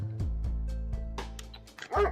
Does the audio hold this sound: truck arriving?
no